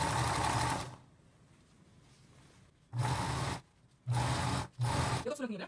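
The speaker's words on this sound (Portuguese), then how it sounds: "Do lado de cá eu vou ajeitar essa lateral também para eu não prender" A sewing machine stitches fabric for a double-sided mitered corner, running in a long loud burst and then in several shorter starts and stops, close up, with a quiet pause between runs.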